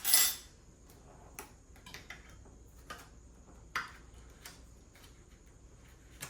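A utensil stirs champagne honey mustard ingredients in an overfull bowl. There is a sharp clink at the start, then soft scraping and a handful of light, irregular ticks of metal against the bowl, with no talk.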